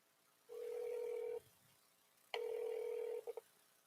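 Telephone tones while dialing to reach a friend: two long steady electronic tones separated by a short gap, then two quick clipped beeps, fairly loud with no voices.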